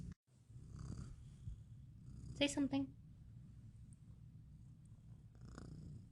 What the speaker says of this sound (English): Y'all hear him? Purring and whatnot?